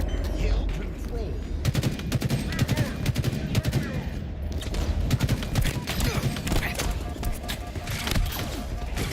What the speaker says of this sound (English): I don't even know who the fuck's shooting me.